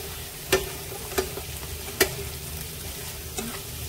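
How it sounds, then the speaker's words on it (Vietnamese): Tofu frying in a pan with a lemongrass and soy sauce mixture as it is stirred: a steady low sizzle broken by a few sharp, spaced utensil clicks against the pan. "Rồi mình cho cái đậu hũ của mình vào đây, mình đảo này cả nhà."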